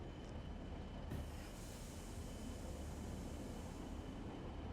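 A Class 40 diesel locomotive in Train Sim World 4 on the Blackpool branch, with a steady rolling rumble and rail noise and a brief sharp clank just after the first second.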